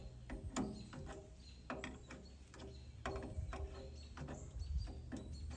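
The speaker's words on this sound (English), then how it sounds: "So I'm using an adjustable wrench here." An adjustable wrench working a fitting on the carburetor of a Troy-Bilt Super Tomahawk 8 HP chipper shredder, giving repeated short metallic clicks and ratcheting scrapes at an uneven rhythm, close and fairly quiet, with no talking.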